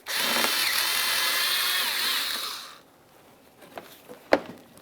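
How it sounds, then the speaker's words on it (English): A power tool, likely a drill or impact driver, runs steadily on a 7mm headed bolt holding a 2006-2012 Ford Fusion grille mounting panel, then stops, followed by a few light clicks and one sharp knock. "you can just remove this 7mm headed bolt"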